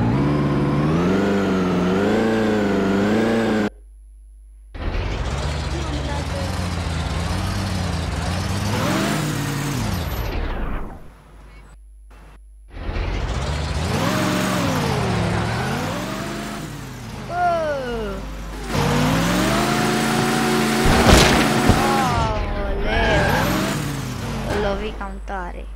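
Simulated car engine from the crash game Turbo Dismount revs and surges in repeated bursts with rising and falling pitch, broken by short near-silent gaps, while people talk over it.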